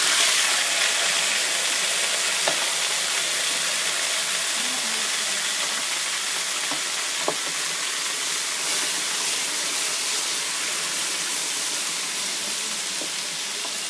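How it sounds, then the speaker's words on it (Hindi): Pieces of taro (arbi) fry in hot oil, giving a steady, even sizzling hiss that runs throughout with only a couple of faint clicks and no voices. "अब हम जल्दी से अरबी को जो है इसमें फ्राई कर लेंगे।"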